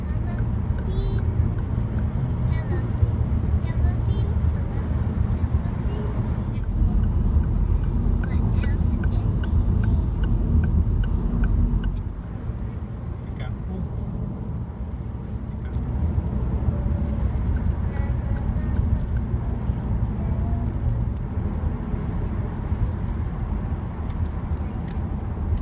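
Peugeot 308 SW car driving, a steady low engine and road rumble from inside the cabin running throughout, with a brief dip midway; people talk quietly over it.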